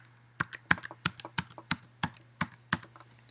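A WPA2 password is typed on a computer keyboard, a quick irregular run of about a dozen crisp key clicks close by, with no talking over a faint steady hum.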